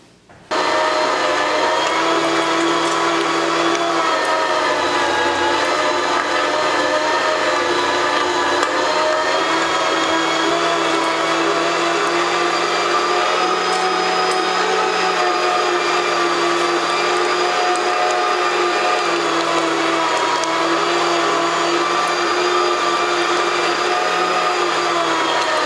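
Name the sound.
meat grinder grinding pork trimmings for sausage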